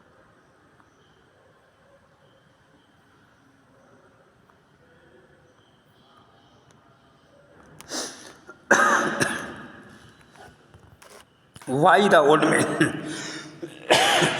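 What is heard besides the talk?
coughing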